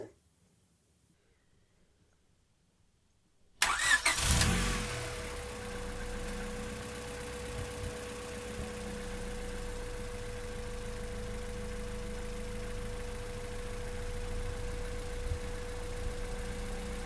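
Car engine droning steadily while driving, a low even rumble with a faint whine that starts abruptly after a few seconds of silence and continues at moderate level, with no talking.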